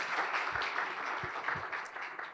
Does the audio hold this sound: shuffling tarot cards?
no